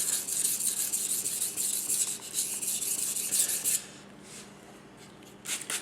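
A knife blade drawn back and forth across a wet Naniwa 8k Snow White whetstone gives soft, hissing rasps in a steady run of strokes, close and fairly quiet, stopping partway with a faint stroke near the end.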